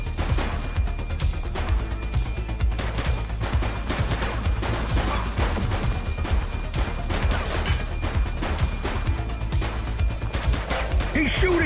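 Gunshots in The Precinct police game, a dense run of sharp shots and crashes over a busy, loud mix, with game voices calling out during the firefight.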